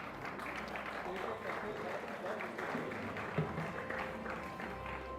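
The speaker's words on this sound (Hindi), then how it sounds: "इन तमाम लोगों की जो तालियों की गड़गड़ाहट है वो आप लोगों के लिए है" An audience applauds Silkyara tunnel rescuers at an India's Heroes award ceremony, dense sustained clapping filling the hall while a voice speaks over it.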